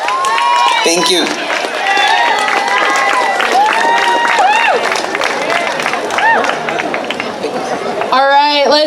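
A crowd at an outdoor Pride celebration and parade on the Monterey Peninsula, California, cheers with whoops and shouts, probably with clapping mixed in. The noise is loud and continuous, with dense overlapping voices and a burst of high yells near the end.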